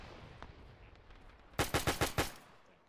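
Machine gun in ARMA 3 with a WW2 mod, a burst of about six rapid, evenly spaced loud shots near the middle, following a quieter earlier crack against low background rumble.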